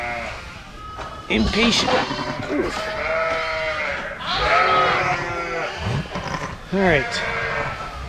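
A ewe bleats in a pen during lambing season, letting out several loud, wavering calls close by while someone talks over them.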